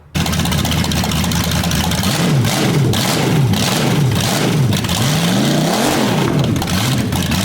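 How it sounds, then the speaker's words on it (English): A small-block V8 on an engine stand runs loud and close, its rumbling idle rising and falling through repeated revs across the whole stretch. "we just got that thing fired up on the engine stand,"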